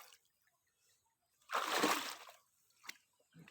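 A single burst of water splashing while wading for apple snails, a loud rushing slosh lasting under a second, followed by faint drips and small trickles.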